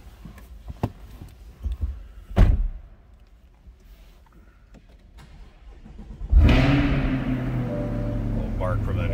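A 2020 Chevrolet Corvette Stingray coupe starts up with a sharp, loud exhaust bark, then settles into a steady, rumbling idle close by, preceded by a few thunks and clicks.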